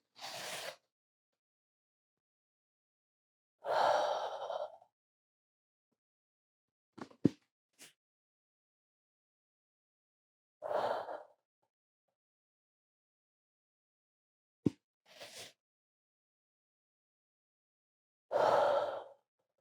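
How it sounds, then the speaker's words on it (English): Deep, slow breaths during child's pose in a yoga class, five or six breathy sighs spaced a few seconds apart, near and soft, with a couple of faint clicks between them and no talking. "Nice deep breaths."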